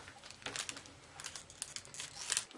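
Cellophane bag crinkling as its top is trimmed with craft scissors, a close, faint run of crackly rustles and snips in a quiet room.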